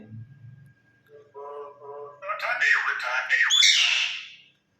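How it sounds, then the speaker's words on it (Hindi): A pet myna bird gives loud, harsh squawks and chattering calls close to the microphone, rising in pitch and intensity toward the end after a brief low murmur at the start. "तो दोस्तों, ये हमारी मैना है"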